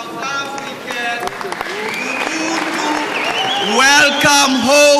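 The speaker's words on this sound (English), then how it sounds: "welcome home round of applause" A crowd at a memorial for South African jazz singer Thandi Klaasen bursts into applause mixed with raised voices and high cheering calls, building louder toward the end.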